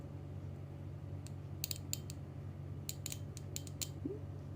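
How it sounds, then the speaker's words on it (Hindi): Fuel injector on a Honda CBR 250R throttle body clicking during cleaning, a few faint, sharp clicks in small clusters over a steady low hum. "ये क्लिकिंग नॉइज़ सुन लियो"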